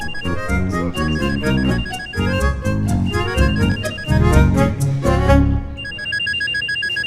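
A mobile phone's melodic ringtone plays from inside a pocket, loud and continuous, a bright repeating tune that runs for several seconds with no voices over it.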